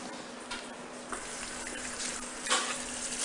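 Water running steadily from a tap while hair dye is rinsed out, a close, even hiss and splash with small surges, no talking.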